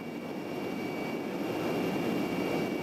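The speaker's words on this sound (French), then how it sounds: "Les uns après les autres, les hélicoptères suisses font des approches." Swiss military helicopters flying approaches make a steady, even rotor and engine roar at a distance, holding at moderate loudness throughout.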